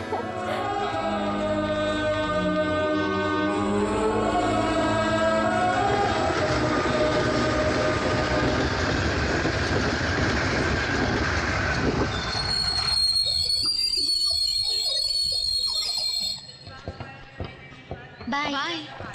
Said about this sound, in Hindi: ट्रेन आ गई, चलो।